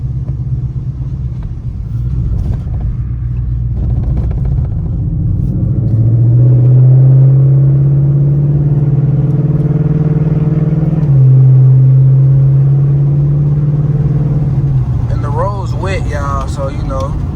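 Ford Mustang GT engine droning steadily while driving at night on a wet road in the rain, a loud low rumble that swells twice as the car speeds up, with someone talking over it at times.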